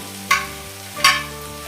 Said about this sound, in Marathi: आता गोळ यामध्ये आपण मिक्स करून घेऊ